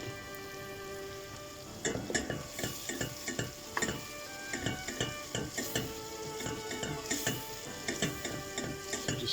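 Vegetables sweat in butter in a pan for a fish pie sauce, giving a soft, crackly sizzle broken by irregular clinks and scrapes of stirring, close by and with no talking.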